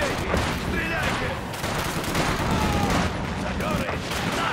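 Continuous battlefield gunfire from Company of Heroes 2, a dense rattle of rifle and machine gun shots with distant booms blending into a steady roar, while soldiers shout orders over it.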